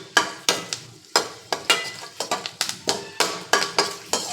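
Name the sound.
tempering spices crackling in hot oil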